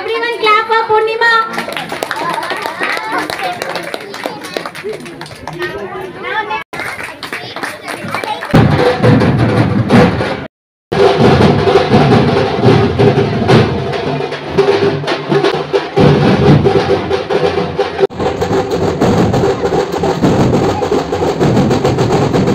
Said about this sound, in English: Everyone clap for Purnima.